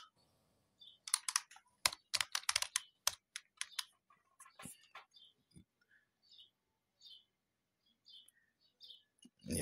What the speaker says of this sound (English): Let us type something right there.